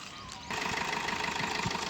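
A 2016 Maruti Suzuki Swift Dzire VDI diesel engine idling, a steady low rumble with a rhythmic mechanical clatter that swells suddenly louder partway through and then holds constant, heard close up.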